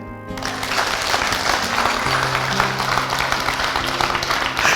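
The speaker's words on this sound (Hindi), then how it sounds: "तो बजाओ ताली।" Audience clapping at a business training seminar led by a motivational speaker, a dense, steady burst of applause from a crowd filling the room, with a low musical hum beneath.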